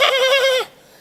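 A human voice imitates a lamb bleating in a single sustained wavering bleat with a quivering vibrato, lasting about half a second before cutting off, on a comedy stage show.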